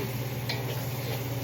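House special fried rice with ham stir-fries in oil over a high flame, giving a steady, close sizzle with light scraping and ticking from the pan.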